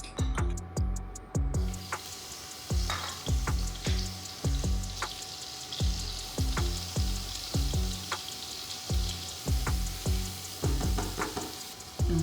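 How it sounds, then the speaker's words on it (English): Garlic and onions frying in hot oil in a skillet give a steady close sizzle, with regular ticking pops and clicks repeating through it and no voices. "I have a little bit of oil heating up in a skillet, and I'm going to go ahead and pop in my garlic and my onions"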